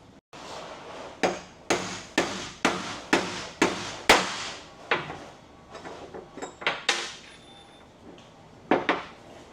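A punch is hammered against an old bearing race to seat it in a trailer hub: a dozen or so sharp metallic strikes, evenly paced at first and then more irregular, each ringing briefly, close up with no talking.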